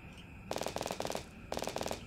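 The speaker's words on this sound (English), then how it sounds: "It's one of the Chinese New Year weapons. Ah. Hence the firecrackers." Bursts of sharp firecracker pops from a Chinese New Year weapon in Fortnite: Save the World on PC, fired in short rapid volleys with brief gaps between them, fairly quiet and free of talk.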